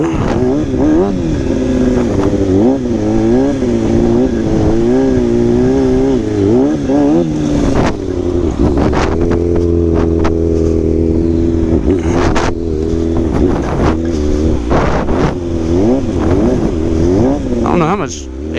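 A stunt motorcycle stripped of its fairings circles nearby, its engine droning loud and steady with wavering revs that rise and fall as it turns, then settling into a more even tone.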